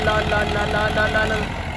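A small tractor engine runs steadily at a house construction site, a close, even idling rumble with a knocking beat and voices in the background.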